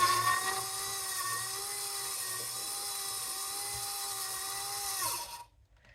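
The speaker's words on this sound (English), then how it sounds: "So I'm going to get the motor running now and I'll show you what the problem is." A Rover gas turbine's starter motor runs with a steady high-pitched whine and a low hum underneath, holding an even pitch for several seconds before dipping and cutting out abruptly near the end; close, no voices.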